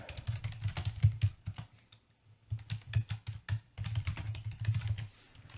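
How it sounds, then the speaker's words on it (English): Rapid clicky typing on a computer keyboard during a blitz Tak game, with bursts of close, crisp keystrokes separated by a brief pause, no voices. "Sorry about the clickety-clackety keyboard action."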